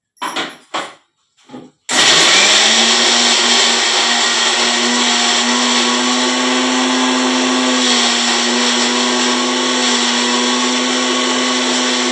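An electric blender grinds ingredients into a paste: a few quick knocks, then the motor kicks in with a loud, steady whirring drone that holds close and even until the end.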